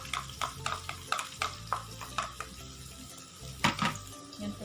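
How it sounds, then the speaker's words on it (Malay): Chopped garlic, onion and shallots sautéing in hot oil, a sizzle under a rhythmic series of sharp stirring scrapes and utensil knocks against the pan, fairly close and alone. "Tumis sehingga bawang layu, kekuningan dan naik bau"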